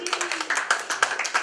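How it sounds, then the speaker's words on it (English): Scattered clapping from a crowd at a band competition, a short burst of hand claps picking up the beat, with a voice talking over the top. "Give me a round of applause."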